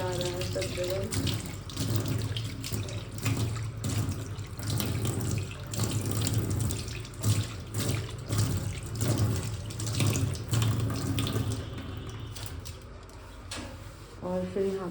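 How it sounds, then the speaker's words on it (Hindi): Water runs steadily from a tap into a sink during household cleaning, a continuous close splashing wash that lasts throughout with small clinks and shifts. "पानी भी बगायदा आ रहा है सब जगह।"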